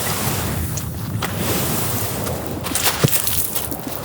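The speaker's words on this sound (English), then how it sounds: "But the waves are so huge again this morning, yep." Huge ocean waves roll in at Rialto Beach as a continuous broadband roar of surf and wind. It is loud and close, with a few sharper crashes breaking through the steady wash.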